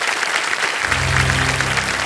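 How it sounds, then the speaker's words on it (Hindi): An audience claps steadily on a quiz game show set, a close, dense patter of applause, with a low musical tone entering partway through. "एक बार तालियां बज जाएंगे"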